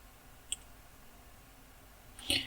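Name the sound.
mouse clicking on a computer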